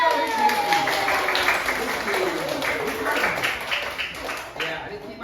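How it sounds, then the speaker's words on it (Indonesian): A class of pupils claps for a classmate chosen to come forward and sing, a dense patter of hands sustained for about five seconds, with some speech heard alongside. "Bapak Guru minta Rifki, tepuk tangan bagi Rifki."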